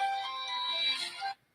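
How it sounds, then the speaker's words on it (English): A mobile phone ringtone plays loud and alone, a steady melodic ring lasting about a second and a half before cutting off abruptly. "That's my phone ringing"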